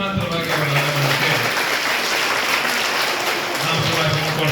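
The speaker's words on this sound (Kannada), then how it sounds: "ಒಂದು ದೊಡ್ಡ ಚಪ್ಪಾಳೆ ಮುಖಾಂತರವಾಗಿ ಅವರ ಆಗಮನಕ್ಕೆ" A crowd of students and guests claps steadily at a Karnataka public school opening ceremony, welcoming the local MLA. The applause is dense and even throughout, with a voice speaking over it at the start and end.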